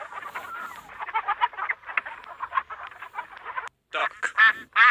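A chicken clucking in rapid, busy bursts, with other fowl-like calls mixed in, fairly close and continuous, ending in several louder, sharper squawks after a brief gap.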